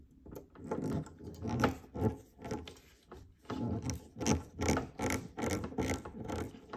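Small screws being driven by hand into a Toyota Supra model kit from Fast & Furious, a series of close, quiet ratcheting clicks and scraping turns in short rhythmic bursts with brief pauses between.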